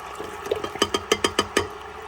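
Warm water with yeast poured into milk glugs out in a quick run of about ten rhythmic liquid bursts, close and moderately loud, with no talking.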